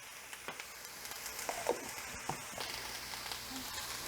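Garlic and food for a chicken dinner sizzle faintly in a pan, a quiet steady hiss dotted with small pops and a few soft clicks, with no one talking.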